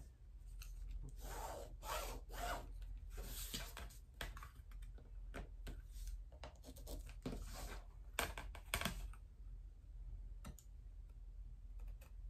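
A pen scratches and rubs across fabric in a series of short, dry strokes while a half-inch line is marked on all sides for a sewn box, close and quiet, ending in near silence.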